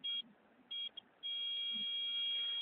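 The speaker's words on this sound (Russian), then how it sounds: "И аппарат стоит и пищит, и пищит." A metal detector on a beach gives short, shrill beeps and then settles into a steady, insistent tone. The sound is moderately close and plays over faint background rumble.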